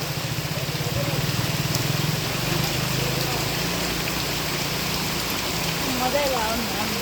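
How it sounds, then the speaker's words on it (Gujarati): Heavy rain pouring down over a village as a downpour begins, a steady, dense, close roar of drops on surfaces that stays constant throughout, with a low rumbling hum underneath. "જોરદાર વરસાદની શરૂઆત થઈ ગઈ જો"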